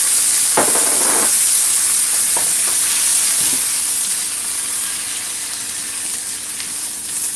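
Butter beans frying in a pan with a little water added, a loud continuous sizzle and hiss up close, with a few stirring knocks, easing slightly toward the end, with no talking.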